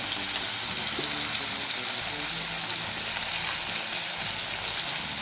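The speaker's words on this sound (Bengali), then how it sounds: "এটা দেওয়ার পর মশলাটা খুব ভালো মতো ভেজে নিচ্ছি" Ground spices with turmeric and salt frying in a pan for a vegetarian begun bahar aubergine dish, giving a steady, dense sizzle that holds at an even level throughout with no talking.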